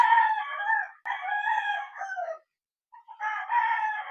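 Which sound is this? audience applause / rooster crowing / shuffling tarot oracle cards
rooster crowing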